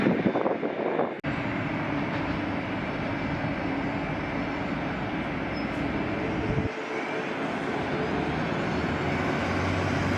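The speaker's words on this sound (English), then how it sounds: "Korean Airlines 18 Super taking position on runway 24 left. 9-year-old Airbus A380" A nine-year-old Korean Air Airbus A380 taking position on runway 24 left at LAX, its jet engines giving a steady, loud broadband roar that holds throughout, with a brief dip near the start.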